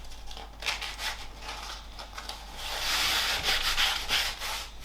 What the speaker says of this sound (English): using a bit of sandpaper, sand down the sides of the runners